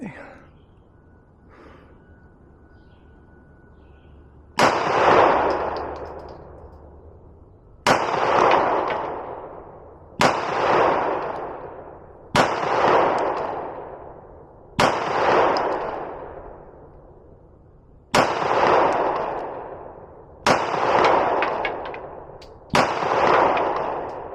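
Beretta APX A1 Compact pistol fired at a shooting range: eight sharp, loud shots spaced a few seconds apart, each with a decaying ring, after a quiet opening stretch.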